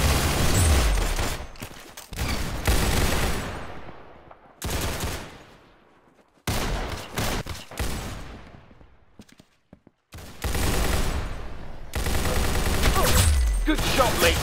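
Rapid, loud bursts of gunfire from the first-person shooter video game Arsenal, firing in several sustained volleys separated by short pauses, with game sound effects filling the gaps.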